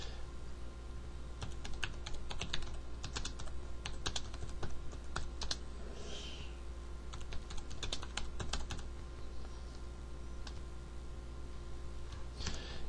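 Steady keyboard typing in LibreOffice on a computer, a continuous run of close, quiet key clicks with brief pauses over a low background hum.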